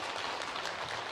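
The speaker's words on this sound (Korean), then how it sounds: "박수 한번 해주십시오." A church congregation at a special early-morning prayer service gives brief, dense applause, a faint, even wash of many hands clapping at once.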